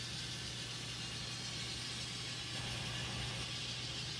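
Steady engine hum from an N scale model locomotive fitted with a home-installed sound decoder board and speaker, a continuous loud drone running unbroken throughout with no talk.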